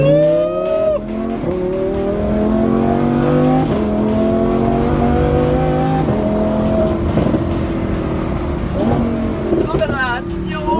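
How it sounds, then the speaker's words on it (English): Lamborghini fitted with a gold Fi exhaust revving loud and close, its engine note rising and falling in sustained surges with sharp blips near the end, while voices exclaim over it. "We're here in the Lamborghini and it sounds insane."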